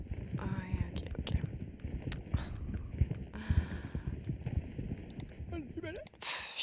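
Horse hooves clip-clopping in Star Stable Online, a steady rhythmic patter of hoofbeats mixed with game sounds and chimes, with a player's voice talking over it.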